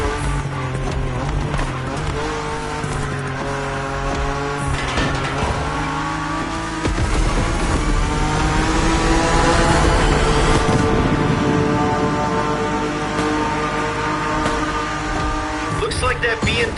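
A BMW M4 races in The Crew Motorfest, its engine a sustained loud drone with rising revs and tire noise, steady throughout under layered game sound and music, with a voice talking over it.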